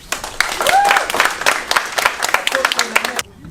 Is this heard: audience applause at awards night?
yes